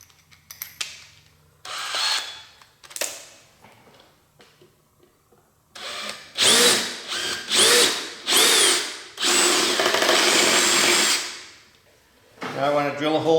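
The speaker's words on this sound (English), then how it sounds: "Now I want to drill a hole into the battery pack." A power drill bores a hole into a metal detector's battery pack in several loud whirring bursts with short pauses between them, after scattered handling clatter.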